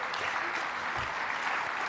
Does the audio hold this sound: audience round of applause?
yes